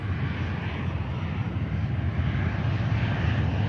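An Airbus Beluga's engines at Manchester Airport give a steady, broad roar, continuous and fairly loud without distinct peaks.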